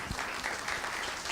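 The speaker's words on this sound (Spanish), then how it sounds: "le damos el aplauso al lado A por ahora" An audience at a museum talk on dissonance applauds, a brief, steady patter of clapping heard at a distance, with no one speaking over it.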